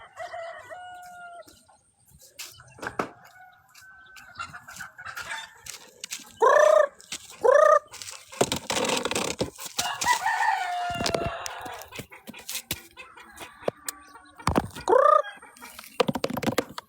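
Hens cluck and squawk in a busy group in a village, with several loud rooster crows breaking through nearby amid scattered rustling and flapping.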